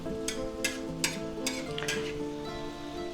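Chopped pre-cooked ham, peppers and onions fry in a pan with a steady close sizzle, broken by several sharp scraping strokes of a utensil stirring them around.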